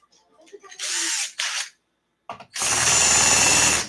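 A power drill bores holes during repair work on an ARRMA Kraton RC car, sounding as three close, loud whirring bursts, two short and one longer, separated by brief quiet gaps.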